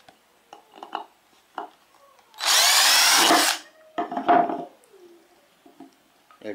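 A Cheston 10mm cordless drill running in reverse whirs in one short burst of about a second, close up, between scattered small clicks and handling knocks.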